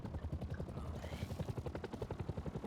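A helicopter in the video game Rust thrums with a rapid, steady rotor pulse, close and continuous throughout, with a faint voice beneath it.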